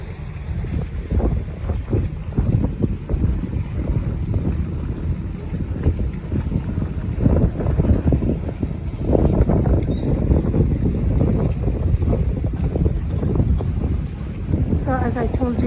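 A sightseeing boat cruising on Lake Geneva from Geneva toward Bellevue, with a steady engine drone, water wash and heavy wind buffeting on the microphone throughout.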